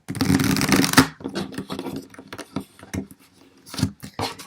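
A Fairy Tarot deck is shuffled by hand, a dense riffling burst at first, then scattered soft flicks and taps of cards, close and without talk.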